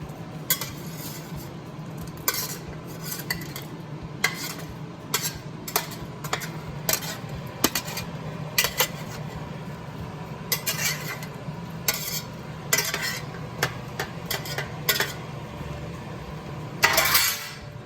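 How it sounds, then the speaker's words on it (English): Paneer is stirred in a pan, a metal spoon scraping and clinking against the cookware in a steady, irregular rhythm over a soft background hum, close and clear, with no talking. "Just keep stirring."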